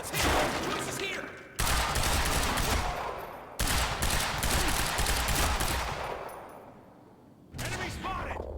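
Sustained automatic gunfire in the shooter Quantum Break, loud dense bursts that roll on for seconds, break off and resume, with shouting voices mixed in.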